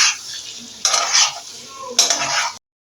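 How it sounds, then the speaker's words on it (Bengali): Mutton keema and liver stirred and fried in a pan: hissing sizzle from close by, with two louder bursts of scraping as the mixture is turned, then a sudden cut to silence. "এটাকে খুব ভালো করে মিশিয়ে আবার একটু কষিয়ে নেব।"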